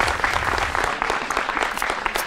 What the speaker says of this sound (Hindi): आप सभी अपने लिए एक बार तालियां बजा लीजिए।